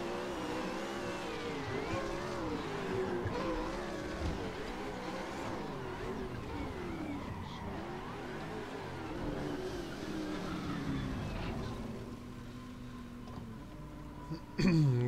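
A racing car engine in the video game Assetto Corsa drones steadily at full throttle, its pitch rising and falling as it revs, ending in a brief louder burst.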